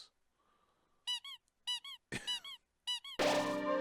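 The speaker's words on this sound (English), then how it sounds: "he fixes the cake with his little squeaky hammer" A little squeaky toy hammer from Deltarune fixing items, a series of bright chirping squeaks in quick clusters, closing on a louder sustained buzzing burst.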